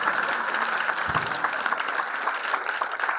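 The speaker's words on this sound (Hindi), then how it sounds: "हर 5 मिनट बाद जो तालियां बज रही है, मतलब कुछ आपकी बातों में बहुत दम है।" Audience applause at a FICCI FLO Jaipur conversation event: steady, dense clapping from a crowd that continues evenly throughout without letting up.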